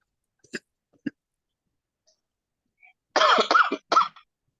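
A few short, sharp coughs spaced apart, followed by a louder burst of coughing and throat sounds, nearby with no talking.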